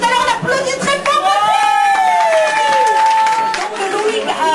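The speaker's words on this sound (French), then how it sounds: "on applaudit très fort" A loud audience at a Mister Cuba pageant in a café applauds and cheers steadily, with whoops and voices rising over the continuous clapping.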